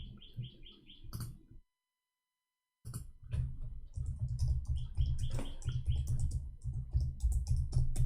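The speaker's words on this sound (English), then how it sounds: "I was typing in Arabic." Fingers tap rapidly on a computer keyboard while typing in Arabic, close and continuous clicking after a brief pause, with birds chirping in the background.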